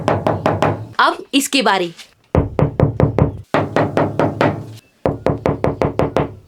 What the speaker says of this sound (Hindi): तो चलो पहले मैं इसको नॉक करती हूँ।